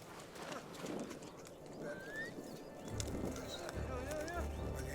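Hooves clip-clop on a Himalayan mountain trail as a donkey ride heads toward a remote cave, with a horse-like whinny, scattered bird calls and a voice talking over the steady plodding.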